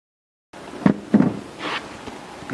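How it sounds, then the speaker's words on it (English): A Frigidaire 14 cu. ft. top-freezer refrigerator door being shut after it is remounted on its hinge pin, giving two close thuds in quick succession followed by a softer rustle. "and closing our door"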